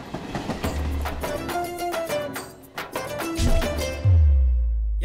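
A train passes in a Tamil film scene, with rhythmic clattering and rumbling along the tracks, loud and close, building to a heavy low roar near the end; no one talks.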